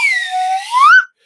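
A slide whistle (a cheap Swanee-type whistle) blows one continuous note that sweeps smoothly down and then glides up to a higher pitch before cutting off, breathy and close, with no one speaking.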